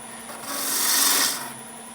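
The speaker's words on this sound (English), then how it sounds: "I'm going to start with spindle gouge. This is a 1/2-inch spindle gouge, a P&N 1/2-inch spindle gouge." A half-inch P&N spindle gouge cuts into wood spinning on a lathe, giving a short raspy scraping pass that swells and fades over about a second, alone without voices.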